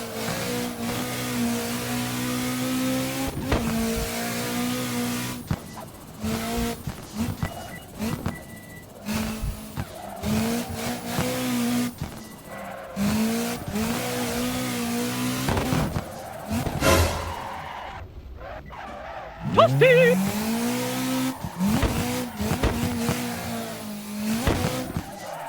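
A car drifts in a racing video game with a drift mod whose handling understeers. The engine revs rise and fall repeatedly, with tire squeal through the corners, loud and continuous with no talking.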